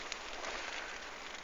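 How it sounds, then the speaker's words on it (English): Rain falls steadily at a lake during a solo fishing trip, a faint, even hiss of drops pattering on the surface with no other sounds. "It's raining."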